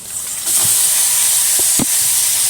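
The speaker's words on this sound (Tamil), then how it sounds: "இப்போ சாந்தெல்லாம் போட்டு ஊற வச்ச கறியும் எடுத்து அப்படியே நான் அது கூட போட்டுக்கிறேன்." Marinated chicken hits a hot pan with ginger garlic paste while chicken gravy is being made, a loud steady hissing sizzle that swells after a moment, joined by a few soft clunks.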